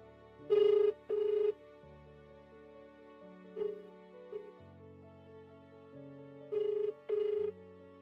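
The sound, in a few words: telephone ringing, unanswered call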